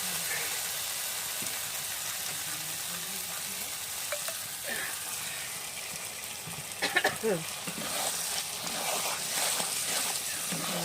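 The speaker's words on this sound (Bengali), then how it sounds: "গরম জলটা কড়াইতে দিয়ে দিচ্ছি।" Hot water poured into a kadai of sizzling dal for a fish-head muri ghonto, giving a steady loud frying hiss with a few sharper bursts and stirring clatter partway through.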